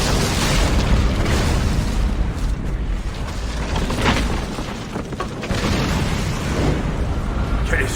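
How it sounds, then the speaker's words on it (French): A gunpowder arsenal explodes in Assassin's Creed, a heavy, sustained rumbling roar of blast and debris that stays dense and loud for the whole stretch, with occasional sharper bursts. "L'explosion surprit Manuel et enfuma la cité"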